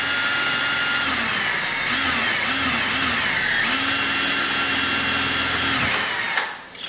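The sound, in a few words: power drill drilling into wood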